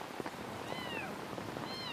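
Cats meow several times: two thin, rising-falling cries come in separate bursts over steady background noise, one near the middle and one toward the end, fairly faint.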